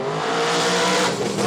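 Radial drag racing car launching down the strip at Willowbank, Australia, during the Kenda 2021 Radial Riot: a loud, continuous, close engine roar with a tyre-squeal edge throughout the short burst.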